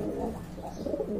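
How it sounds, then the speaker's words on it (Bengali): A white Baghdadi pigeon coos in low, soft murmuring tones, a continuous close burble with a slightly louder swell near the end. "এটা বাগদাদি কবুতর"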